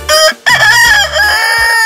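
A rooster in an animated moral story crows loudly and close, one long drawn-out cock-a-doodle-doo call alone, with no speech over it.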